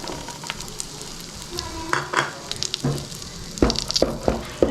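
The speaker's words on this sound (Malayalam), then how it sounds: "ഇപ്പോൾ ഇതാ നെയ്യൊക്കെ നന്നായി ഉരുകി വന്നിട്ടുണ്ട് ഇനി നമുക്കിതിലേക്ക് മൈദപ്പൊടി ഇട്ട് കൊടുക്കാം" Maida flour sizzles in melted ghee in a pan for coconut ladoo, with a steady close frying hiss and several scraping stirs of a spoon, with no talking.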